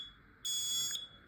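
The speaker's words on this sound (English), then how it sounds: "As you can see, the alarm actually sounded." Smoke alarm sounding during a sensor test: one loud, shrill electronic tone lasting about half a second, close by, with no talk over it.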